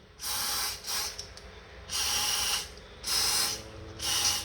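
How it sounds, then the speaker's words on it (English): Four short bursts of aerosol oil spray hiss into an engine onto the lifters, each about half a second to a second long, close by with quiet pauses between them. "Spray some oil down in there on top of the lifters"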